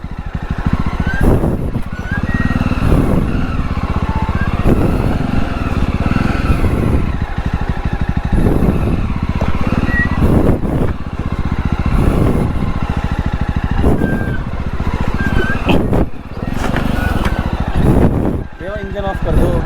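A motorcycle engine runs loudly and steadily at close range during a bike ride in Ekole Valley, its throaty rumble rising and falling with revs while people talk over it.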